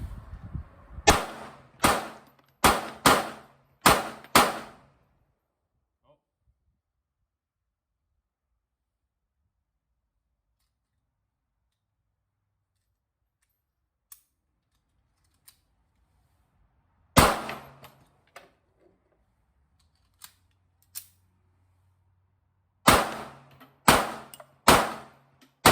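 A Colt Mark IV Government .380 pistol fires PMC Bronze ammunition in sharp, loud shot bursts: a rapid string of five near the start, then after a quiet gap a single shot, a few faint clicks, and a final quick string of four.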